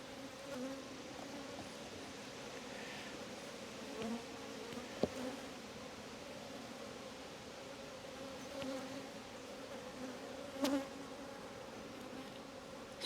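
Honey bees swarm around an open hive box during a frame inspection, giving a dense, continuous, quiet buzzing drone with occasional small knocks and clicks from handling, and no voices.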